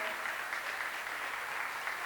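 Sustained audience applause welcoming a guest onto the stage at a children's rights dialogue event, a dense steady clatter of many hands clapping at even volume throughout, with no talk over it.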